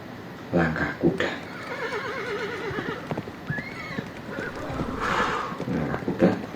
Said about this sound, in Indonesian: langkah kuda.